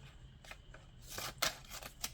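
Scissors slice through a sticker sheet from a Live Love Posh sticker book, a series of soft, crisp snips and rustles close up, quiet at first and growing louder near the end, with no talking.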